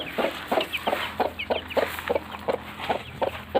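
Aseel chickens of a Tamil Nadu parrot-beak breed cluck in a quick, regular series of short, close calls, sounding loud and clear with no talk over them.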